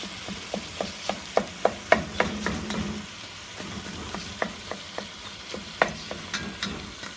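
Ground meat browning in a flat pan for Greek bolognese, with a steady sizzle under a series of sharp, rhythmic spatula taps and scrapes, close and fairly loud.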